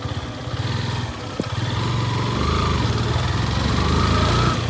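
A Yamaha motorcycle rides along a rough, muddy village road with a continuous, close engine drone. The engine note holds steady with slight rises in pitch and no talking.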